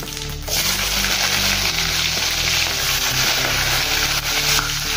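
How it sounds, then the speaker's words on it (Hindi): Chopped onions dropped into hot oil already crackling with mustard and cumin seeds, a loud sudden burst of sizzling that settles into a dense, steady frying hiss close by. "अब इसमें हम प्याज डालेंगे"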